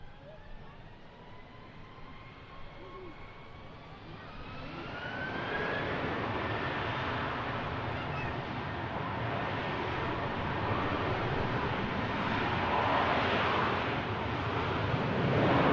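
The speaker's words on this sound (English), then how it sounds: "We have the Fly 1 aircraft touching down." A Fly 1 airliner touching down at Manchester Airport, heard from a distance as a broad engine roar that builds and swells into a loud, sustained rush with wind buffeting the microphone.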